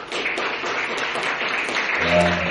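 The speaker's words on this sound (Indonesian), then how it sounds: "Boleh tepuk tangan." Audience at a formal event of the Palangka Raya correctional office applauds an award announcement, giving a short dense burst of clapping that ends as a voice starts speaking.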